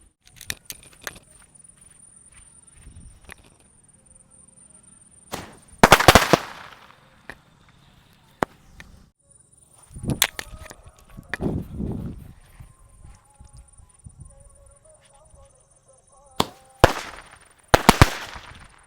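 Small sky shot firecrackers set off one after another for Diwali, each giving a whistling launch and sharp crackling bursts, separated by quieter gaps with faint outdoor background.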